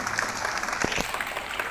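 Students clapping together at a school festival held at a junior high school in Mojokerto, a brief burst of steady crowd applause close by with no talk.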